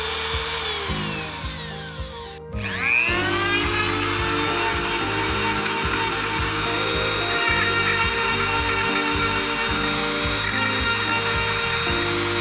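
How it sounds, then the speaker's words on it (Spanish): A power drill bores holes into a board meant to hold LEDs for a homemade 3x3 LED matrix, a close, loud whirring drone that dips briefly, then runs on steadily with rhythmic grinding bites into the material. "ahora lo que nos tenemos que hacer es los agujeros donde poner los LEDs"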